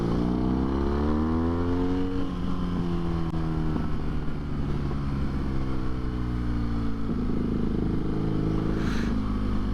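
A BMW motorcycle exhaust drones at low revs, a steady deep rumble whose pitch rises and falls gently as the throttle shifts, heard close throughout.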